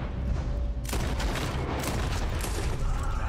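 Gunfire in the video game Red Dead Redemption 2 rolls as a dense, loud barrage of shots that swells sharply about a second in and keeps going.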